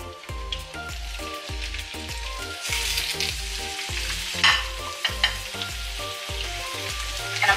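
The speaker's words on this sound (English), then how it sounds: "And I'm also gonna add the diced onion in with it to saute the onions as well." Ground beef and diced onion frying in vegetable oil in a pan, a steady sizzle and crackle with repeated stirring scrapes and taps of a utensil against the pan, close and moderately loud.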